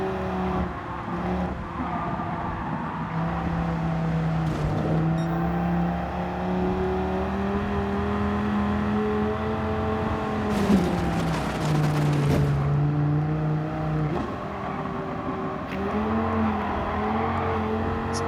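A 2013 Dodge Viper races in Gran Turismo 7, its engine holding a loud, steady drone that rises and falls in pitch as it revs through shifts, heard alone throughout.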